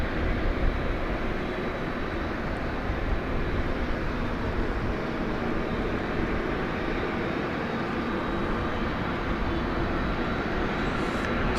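Qantas Flight 8, a Boeing 787-9 Dreamliner bound for Sydney, rumbles steadily as a broad continuous jet roar at an airport at night, holding even in level throughout without talk.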